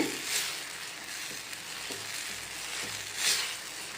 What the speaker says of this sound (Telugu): కొద్దిగా ఒక్క నిమిషం ఇలా ఆయిల్లో కుక్ అవనిద్దామండి